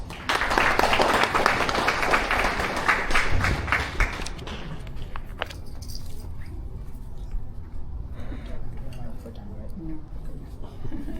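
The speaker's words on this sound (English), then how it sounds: "Could we have a warm round of applause?" Audience applause at a Bhagavad Gita talk, with a dense burst of clapping for about four seconds that thins to scattered claps and settles into room murmur.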